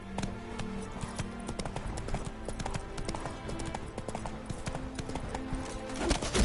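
Horse hooves clip-clop in a steady galloping rhythm in The Witcher 3, close and continuous over game ambience, with light tapping accents and a brief whinny-like note.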